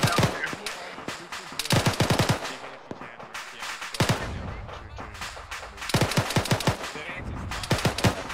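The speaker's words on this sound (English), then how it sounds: "There's still a big gun shooting at us." Heavy gunfire in the ArmA 3 military shooter: rapid bursts of loud automatic shots in several clusters, with a voice speaking briefly between them.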